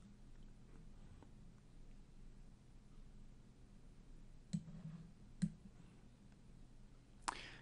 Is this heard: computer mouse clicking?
yes